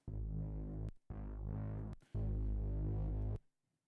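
Thick, buzzing Reese bass synth with added distortion playing three sustained notes with short gaps, loud and gritty, no voices.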